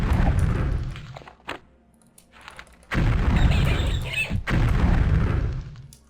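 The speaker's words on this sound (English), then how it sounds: "I cast Horse Explosion." Spell blasts from Daggerfall's Horse Explosion being cast in the video game: a loud booming burst, a quieter gap with a few small pops, then two more heavy explosive rumbles in succession, without speech.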